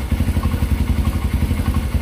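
A worn Kawasaki Barako motorcycle engine idling with a loose clutch housing and idle gear, giving a fast, even, knocking clatter that repeats steadily and sounds close and loud.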